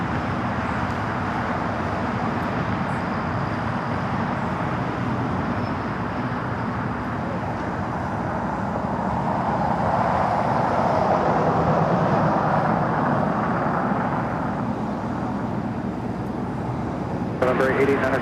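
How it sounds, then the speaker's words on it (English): KLM flight 601, an airliner arriving at LAX from Amsterdam, makes a steady, loud, broad roar on approach that swells slightly midway and persists for the whole stretch. "This is KLM 601 coming in from Amsterdam."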